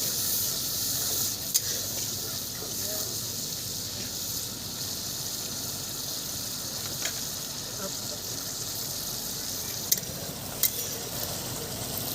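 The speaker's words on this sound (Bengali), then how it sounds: "এখন সমস্ত কিছু ভালো করে নেড়ে নিচ্ছি" A spoon stirs chili chicken sauce with tomato ketchup in a pan, giving a steady soft sizzle and hiss with occasional scraping clicks and low background noise.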